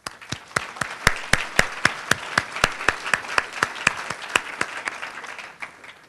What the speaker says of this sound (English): big round of applause for Gloria Feldman for all that she does for us.